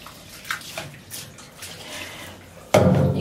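Water splashing and running in a bathtub while a cat is being shampooed on a rubber mat, soft sloshes early then a sudden loud gush near the end.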